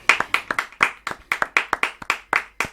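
A church congregation claps and applauds together, a dense run of sharp handclaps in an uneven rhythm, fairly close and steady throughout, with no talk over it.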